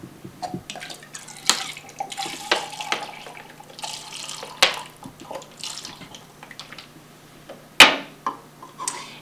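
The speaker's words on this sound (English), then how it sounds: "we take water and fill up 2 glasses of water" Tap water pours into two drinking glasses in short, uneven bursts of splashing and trickling, with a few sharp clinks and knocks of the glass. The sound is close and clear against a quiet room.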